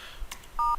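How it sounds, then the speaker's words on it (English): Softphone dialing tones on a call-center system: after faint background noise and a brief click, two short electronic DTMF beeps sound close and clear in quick succession. "on the soft phone you have to dial"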